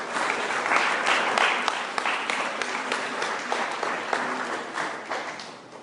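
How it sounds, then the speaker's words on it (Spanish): A church congregation applauds together in a steady, dense burst of clapping that continues evenly for several seconds with no voices over it. "Denle un aplauso a nuestro Dios."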